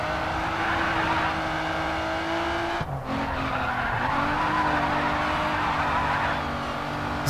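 A race car in the video game GRID 2 skidding and scraping along a guardrail, a sustained tire-squeal and engine drone with a sharp break midway, then steady racing noise.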